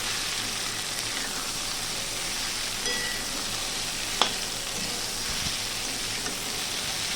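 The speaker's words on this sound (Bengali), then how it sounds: "সোয়াবিনটা প্রায় আমি 5 থেকে 6 মিনিট ধরে হাই ফ্লেমেই ভেজে নেবো" Soybean chunks fry in oil over a high gas flame, giving a steady, dense sizzle that runs unbroken throughout, with a couple of faint clicks and no voices.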